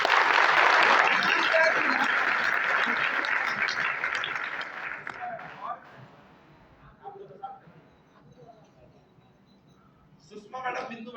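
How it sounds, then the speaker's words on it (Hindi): An indoor audience at a training program breaks into loud applause for about five seconds, which then fades out as scattered voices and talk take over. "मैडम के लिए ताली हो जाए भाई।"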